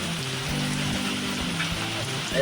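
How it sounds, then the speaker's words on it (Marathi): Rain falls steadily on and around a fishing pond, a constant broadband hiss of drops that fills the whole stretch, with low rumbling and faint background sounds underneath. "आता पाऊस आलाय"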